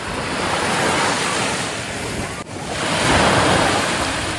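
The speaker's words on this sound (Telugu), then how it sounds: "ఆగాగు అలలు ఇంతవరకు వచ్చి వెనక్కి వెళ్ళిపోతున్నాయి ఎలాగా." Sea waves wash up a beach and draw back in a steady roar of surf, loud and close, with heavy wind buffeting the microphone and a brief dip midway before the next wave swells in.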